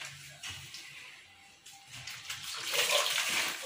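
Clothes being scrubbed by hand in a basin of water, producing soft irregular sloshing and splashing that grows louder toward the end, nearby with no talk.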